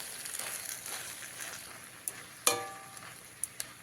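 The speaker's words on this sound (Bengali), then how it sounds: "এবারে এর মধ্যে দিয়ে দিতে হবে ভেজে রাখা সমস্ত সবজি দিয়ে খুব ভালো করে মিশিয়ে নিতে হবে" Fried mixed vegetables being stirred in a pan of sizzling oil, a soft steady frying hiss broken by a few sharp spatula scrapes and clinks against the metal.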